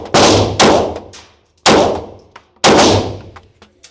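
Sarsilmaz pistol gunshots ring out at a shooting range: three loud, sharp reports with a metallic clang and decaying echo, spaced about a second apart.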